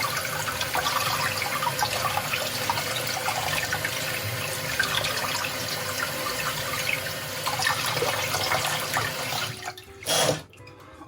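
Cold water pours steadily over a glass bottle being cut, a continuous splashing rush that runs for several seconds before cutting off, followed by a brief final surge.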